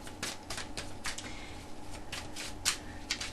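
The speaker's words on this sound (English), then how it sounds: "I just keep shuffling until I feel like that's, that's the spot" Tarot cards being shuffled by hand in a repeated riffle, a run of soft, papery bursts with a few sharper snaps near the end, quiet and close with no voices.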